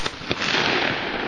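At an outdoor skeet range, a shotgun fires at a clay target: one sharp report and another, each followed by a rolling echo that fades off into the open air.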